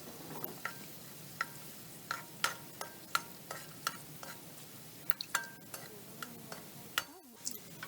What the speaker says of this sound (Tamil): ஸோ இந்த இஞ்சி பூண்டோட பச்சை வாசனை போகிற வரைக்கும் நல்லா ஒரு 30 செகண்ட்ஸ் நல்லா ஃப்ரை பண்ணி விடுங்க.